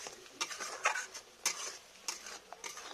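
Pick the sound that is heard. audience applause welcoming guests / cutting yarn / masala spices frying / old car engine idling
masala spices frying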